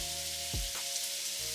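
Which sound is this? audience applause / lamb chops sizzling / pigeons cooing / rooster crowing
lamb chops sizzling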